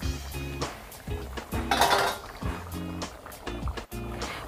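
Vegetarian ghugni in a pan, stirred after garam masala goes in, with a spoon scraping in short, repeated bursts against the pan over a steady background of music.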